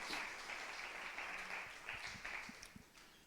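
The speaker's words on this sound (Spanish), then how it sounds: "Dale un aplauso al Señor." Faint, distant crowd applause at a church sermon, a steady wash of many hands clapping that fades slightly toward the end.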